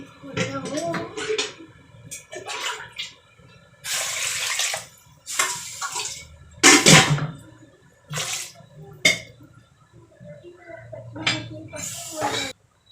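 Water splashes and pours in several short bursts into a metal pressure cooker holding taro roots, with faint clinks and quiet pauses between the pours.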